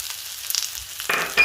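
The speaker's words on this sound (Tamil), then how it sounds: "அதனால் நம்ம இஞ்சியை வதக்கிக்கிறோம்." Ginger being sautéed with grated coconut in a pan, giving a soft, steady sizzle with a brief louder burst of frying near the end, with no talking.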